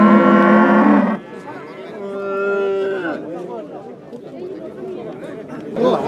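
Cattle low at a livestock market in Kurshab, a long loud moo up close followed by a second drawn-out call, with people chattering and bargaining around the animals.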